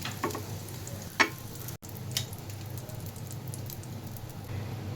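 Eggs fry in ghee in a pan with a steady, close sizzle and crackle running throughout, broken by a couple of faint clicks, with no speech.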